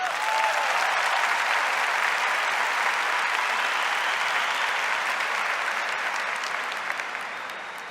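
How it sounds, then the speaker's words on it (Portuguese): An audience claps steadily for a woman at a church gathering, dense continuous applause that holds for several seconds and then begins to thin out. "Aplauda essa mulher, olha que linda."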